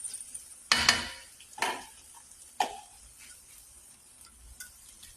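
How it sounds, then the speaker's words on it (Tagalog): A metal lid clatters onto a pan of scrambled eggs with carrots, garlic chives and cabbage, three sharp knocks spaced about a second apart, each ringing briefly before fading over a quiet background. "Tapos takpan na natin ulit."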